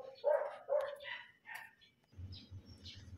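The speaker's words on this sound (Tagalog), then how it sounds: "ang ingay ng mga aso," Dogs barking loudly and repeatedly, a few sharp barks close by followed by fainter yips, with lower rumbling and a quiet voice underneath toward the end.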